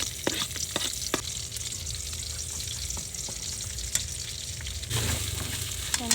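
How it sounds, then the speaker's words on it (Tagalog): Leftover rice frying with garlic in a pan, a steady close sizzle with scattered scrapes and clinks of stirring, the sizzle swelling louder near the end. "ako ay magsasangag ng aming bahaw"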